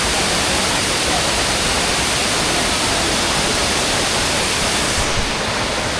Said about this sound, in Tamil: சூப்பராக தண்ணி ஓடிட்டு இருக்கீங்க.